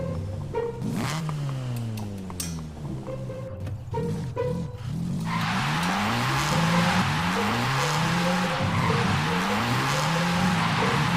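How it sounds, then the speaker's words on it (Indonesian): An old car engine is revved hard again and again in rising, falling sweeps, growing louder and rougher partway through, with tire-squeal-like whines; the roar fills the whole stretch. "Kau terlalu saja menggeber-geber mesin mobil ini."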